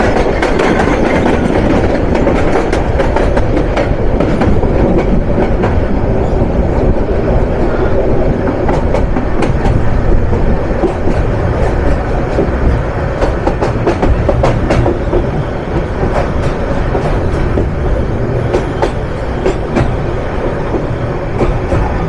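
Turag commuter train running from Dhaka toward Joydebpur, heard from inside as a loud, continuous rumble with rhythmic clickety-clack of wheels on rail joints throughout, no talk.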